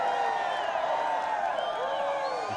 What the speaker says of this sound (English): The crowd are really cheering and wanting big shots.